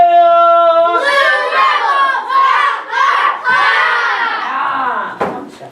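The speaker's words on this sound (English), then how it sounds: "Give him a big round of applause" A school crowd of children erupts in loud shouting and cheering after a sustained tone, the roar rising and falling for several seconds before cutting off; applause is not clearly separable from the yelling.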